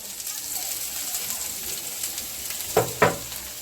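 Brinjal frying in a pan for a curry with shrimp, potato and beans, a soft steady sizzle with two sharp louder bursts near the end, likely from stirring.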